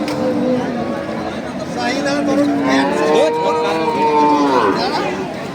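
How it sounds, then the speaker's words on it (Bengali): Cows at a busy cattle market (Satmile cattle market) moo loudly and repeatedly, with several drawn-out calls overlapping while crowd chatter and murmuring voices fill the background. "হাটে প্রচুর পরিমাণ গরু আমদানি আপনারা দেখতে পাচ্ছেন"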